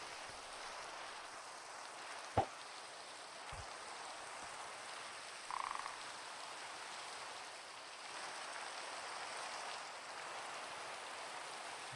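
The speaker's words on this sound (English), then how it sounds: "now it's starting to rain, which is amazing" Steady light rain falling outdoors at night near a small candle, a soft even patter throughout, with a couple of brief sharp knocks and a faint low thump mid-way.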